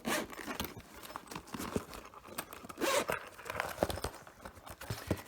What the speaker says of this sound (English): double zipper.